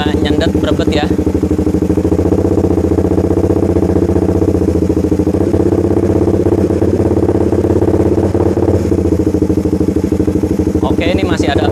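A motorcycle engine runs steadily near and loud, with a stumbling, misfiring hesitation in its revs; a voice talks over it near the end.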